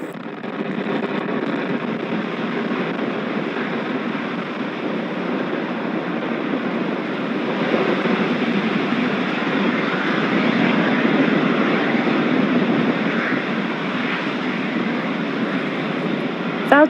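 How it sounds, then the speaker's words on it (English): A SpaceX Falcon 9 lifting off from Space Launch Complex 40 with the SXM-8 satellite gives a steady, continuous low rumbling roar that holds at a fairly even level throughout, with no talk over it. "Falcon 9 has successfully lifted off with the SXM-8 satellite from Space Launch Complex 40"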